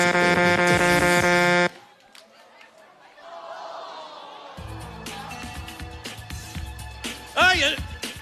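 A loud, sustained horn blares for nearly two seconds, followed by a noisy crowd with chatter, laughter and music in the background.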